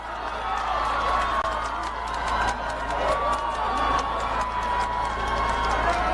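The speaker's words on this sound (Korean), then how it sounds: "다시 한번 뜨거운 박수 보내주십시오." A large crowd at a People Power Party political rally in Daegu claps and cheers loudly and continuously, a dense roar of hands and voices that holds steady throughout.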